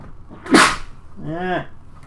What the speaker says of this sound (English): You sneezed.